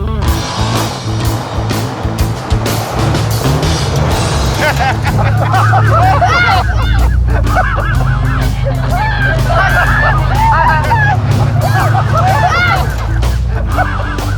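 A truck engine runs loud and throaty as the vehicle rolls forward, with a heavy low rumble under rising honking, squealing tones. Voices shout and chatter over it.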